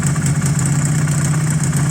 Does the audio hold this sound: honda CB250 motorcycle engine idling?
yes